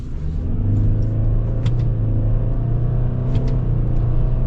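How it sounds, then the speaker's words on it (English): A 2021 Toyota Sienna XSE minivan accelerating in manual mode, heard from inside as a steady low engine drone and road rumble, with a couple of faint brief clicks. "we should be able to get our acceleration if we're lucky enough the light doesn't change"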